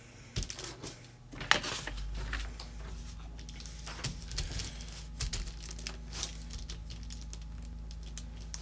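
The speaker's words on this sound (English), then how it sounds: "Then you're just going to repeat the same folding technique on the other side and then make your crease." A sheet of paper is folded and creased by hand to form a disposable cup, giving close, irregular crinkles, sharp creasing snaps and soft rustling taps spread across the stretch with no voice.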